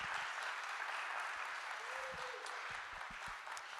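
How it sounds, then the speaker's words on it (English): Faint audience applause at a school board candidates forum, a short steady patter of clapping heard from a distance, with a voice briefly audible beneath it. "Let's give a big round of applause to our board candidates for volunteering their time."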